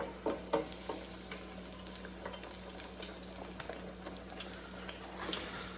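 Breaded baby back ribs drop into hot oil and fry with a soft, steady sizzle and bubbling, marked by a couple of brief splashy knocks near the start; quiet and close, with no talking.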